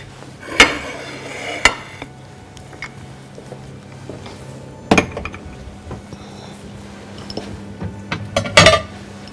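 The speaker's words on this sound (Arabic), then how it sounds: "ونقلب ده مع بعض" Cornmeal stirred together with salt, pepper and garlic powder in a bowl, giving sporadic loud clinks and knocks of a utensil against the bowl over a soft scraping bed, with no talk.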